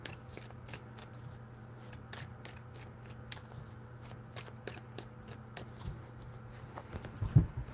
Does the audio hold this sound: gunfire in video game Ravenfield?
no